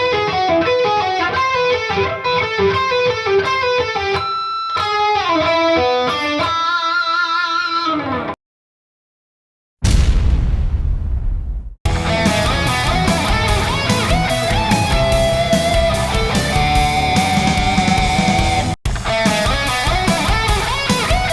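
A distorted electric guitar plays a slow lick of sustained notes, alone and up close, with a brief silent pause partway through.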